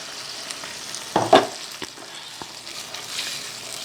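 Blended masala and coconut water poured into a pan of simmering potato kurma, giving a brief burst of splashing and sizzling before settling into a low, steady bubbling.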